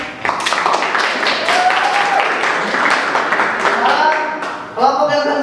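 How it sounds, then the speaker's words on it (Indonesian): Classroom clapping rings out in a steady burst of many hands, with voices and chatter mixed in, and a brief higher-pitched vocal sound near the end. "Bagus sekali, tepuk tangan lagi."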